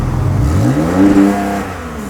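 A Porsche 911 (991) Carrera 4S sports exhaust with a 3.0-litre engine barks as the engine revs up sharply, rising to a loud peak before easing back into a steady rumble.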